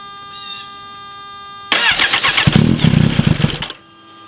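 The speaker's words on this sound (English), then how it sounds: "let's start them up and do a sound test" A Kawasaki Ninja H2 motorcycle fitted with an aftermarket exhaust fires up after a quiet stretch, catching suddenly into a loud, rough, crackling burst of engine noise that runs for about two seconds before cutting back to near silence.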